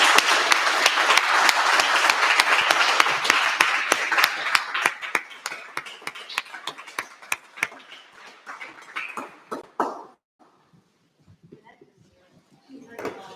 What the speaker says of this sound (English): perhaps we could just have one more round of applause for all of our readers tonight